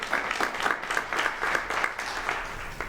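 An audience at an enterprise communications industry panel applauds steadily for a few seconds, with a moderate crowd of clapping hands at a middle distance and no talk.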